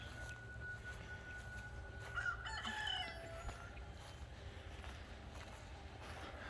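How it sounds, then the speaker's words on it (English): A rooster crows in the distance, a single drawn-out call rising over steady outdoor background noise. "You can hear a rooster in the background."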